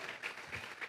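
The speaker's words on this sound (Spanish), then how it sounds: "Vamos a regalarle ofrenda de palmas al Dios de la gloria." Church congregation clapping during a Spanish-language sermon, a short burst of steady, dense applause filling the space with no speech over it.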